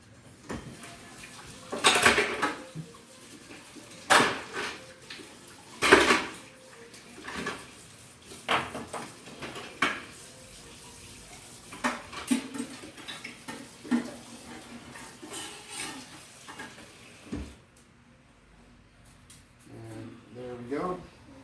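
Spoon and big knife clatter against the sink while being rinsed under running water, with scattered metallic clinks and knocks at an irregular pace, close by, as a person preps guacamole in a kitchen.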